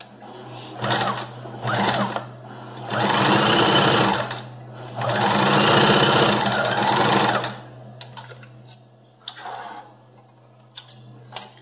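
A sewing machine runs a straight seam across a fabric pocket in several loud, close bursts of rapid stitching separated by short pauses, with a steady low hum underneath and faint handling clicks toward the end.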